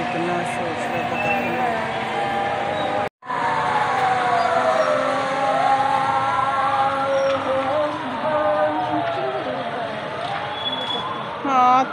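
A loud, dense outdoor din of traffic and crowd noise at a political rally on a road in Sheikhupura, Pakistan, with ambulance sirens wailing, rising and falling through it, and voices mixed in; a brief cut interrupts early on.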